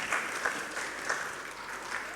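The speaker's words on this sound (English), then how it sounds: "I was waiting for a round of applause for that." At a business finance event on SME financing, an audience gives a round of applause, a soft, continuous patter of many hands with slight swells, heard from some distance.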